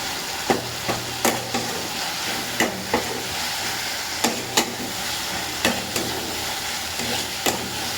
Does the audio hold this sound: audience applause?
no